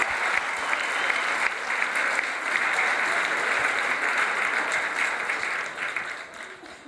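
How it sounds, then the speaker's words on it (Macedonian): Audience at a queer storytelling comedy event at Skopje Pride claps loudly and steadily in a dense wash of applause, sustained for several seconds before gradually thinning out toward the end. "еден голем аплауз за македонскиот Кање Вест"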